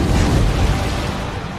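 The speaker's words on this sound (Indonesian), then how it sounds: "Terjadilah ledakan yang dahsyat yang bersumber dari tempat pengapian." A powerful explosion bursts from a fire pit in a film scene, a dense, roaring boom that fills the whole short stretch and fades only slightly toward the end.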